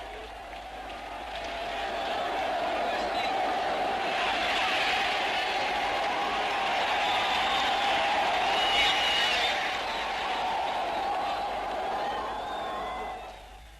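Dense crowd murmur of many voices fills a busy public space, steady and moderately loud throughout with a brief swell of cheering in the middle.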